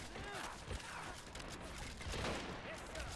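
Gunfire in the video game Men of War: Assault Squad 2 crackles in dense, distant bursts, with voices shouting faintly over the battle.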